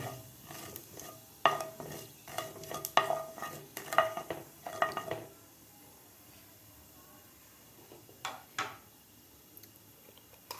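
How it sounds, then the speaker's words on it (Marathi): Mustard seeds and cumin crackle and pop in hot oil with a faint sizzle, bursts of sharp spatters clustered early, then a few scattered pops. "जिरे आणि मोहरी आपल्याला व्यवस्थित फ्राय करून घ्यायचे आहे"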